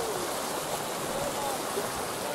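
A river at a resort in Susamyr, Kyrgyzstan rushes steadily in a dense, continuous wash of water noise, close and even throughout with no pauses.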